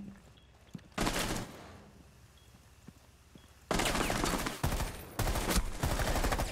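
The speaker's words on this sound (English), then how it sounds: "Ah, you shot me!" Loud bursts of rapid automatic gunfire in a video game match, one short volley early, then longer sustained strings of shots with a brief break, close and dominant.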